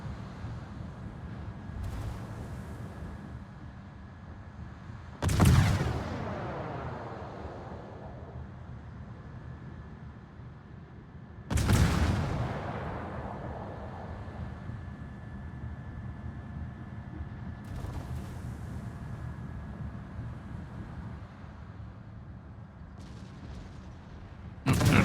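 Torpedo strikes on a ship in a naval video game, two sharp booming impacts several seconds apart with faint rumbling tails, heard over a quiet wind-like background without speech.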